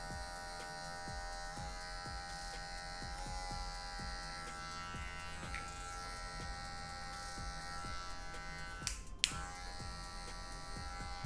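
Electric hair clippers buzz steadily and close up for the whole stretch while a barber takes a grey-haired client's fade down to zero, with a brief sharp click near the end and no talking.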